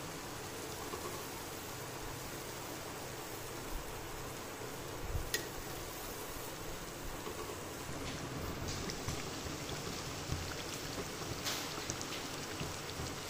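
Dahi vada frying in hot oil over medium heat, a steady, fine, rain-like sizzle with occasional soft pops, continuous and fairly quiet throughout.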